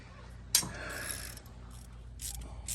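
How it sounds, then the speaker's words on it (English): Ratchet snugging down cylinder head bolts on a GM 6.2L/5.3L V8 (L86/L83) during a cam, lifter and head gasket job, with a sharp clack then a short run of metallic clicking, close and alone. "We're just snugging down all the bolts."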